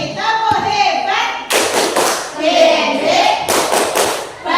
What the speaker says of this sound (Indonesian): Beri tepuk hebat untuk Wati.